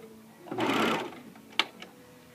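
A JUKI MO-2000QVP serger runs briefly while stitching fabric, a close whirring burst lasting about half a second, followed by a couple of sharp mechanical clicks.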